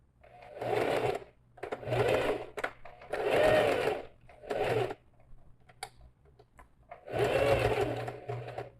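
A sewing machine runs in five short bursts with brief pauses between them while topstitching a zipper pouch, close and clear with light handling noises in the gaps.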